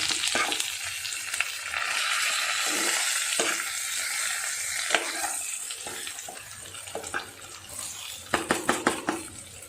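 Masala is stirred over stuffed brinjals in a pan, making a steady hissing sizzle with scraping and stirring, then a quick run of sharp utensil clatters near the end.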